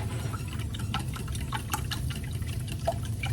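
Light cream poured into a bowl of cracked eggs for British scrambled eggs, a steady low liquid pour running continuously for a few seconds with faint small splashes on top.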